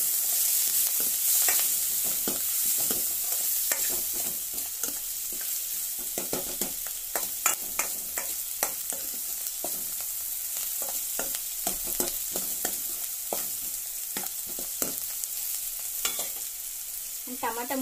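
Mushroom Manchurian with curry leaves sizzles steadily in a hot pan while a spoon stirs it, giving constant frying hiss and frequent scraping clicks, close and fairly loud, with no talking.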